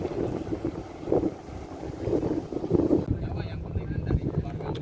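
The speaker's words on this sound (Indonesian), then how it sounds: "kapal udah mulai manuver mau keluar dari Krung Aceh, tepatnya di pelabuhan nelayan Lampulo" A boat maneuvers out of the Lampulo fishing harbor in Aceh, a low engine drone under heavy wind buffeting on the microphone, with someone talking over it.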